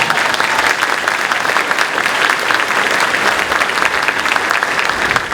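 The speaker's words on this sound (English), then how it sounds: "Let's give her a round of applause." An audience at a high school chorus concert applauds the pianist with dense, steady clapping throughout, loud and close, without a break.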